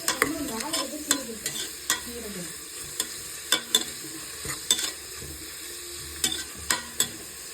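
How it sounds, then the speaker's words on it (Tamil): Onions sautéed in a pan for chicken biryani: a close, steady sizzle broken by repeated scraping strokes and knocks of a spatula against the pan, no talking. "பொன்னிறம் வர வரைக்கும் நம்ம வதக்கிக்கணும்"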